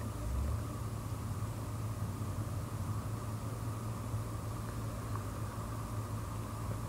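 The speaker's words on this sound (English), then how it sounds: "I'm sorry if you hear a fan in the background" An electric fan runs steadily in a room, a constant low hum and broadband whoosh that stays even throughout, with no speech.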